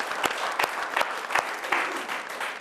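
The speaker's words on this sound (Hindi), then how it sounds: "जरा जोरदार तालियां इन तीनों के लिए" Loud, steady applause from the audience at a Hindi poetry recitation show, with a brisk, continuous patter of many hands clapping close up.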